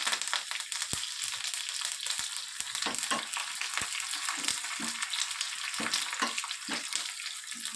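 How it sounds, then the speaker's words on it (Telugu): Tempering spices and curry leaves frying in hot oil, a loud, continuous crackling sizzle full of sharp pops and spatters, close up with no talking. "పోపు దినుసులు బాగా ఫ్రై అయిన తర్వాత 2 నుంచి 3 రెబ్బలు కరివేపాకు వేసి"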